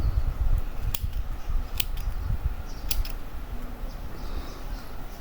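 Scissors snipping off the yarn tails of a crochet mesh shrug, a few sharp separate clicks spread across the clip over a soft rustling background.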